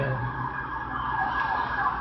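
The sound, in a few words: siren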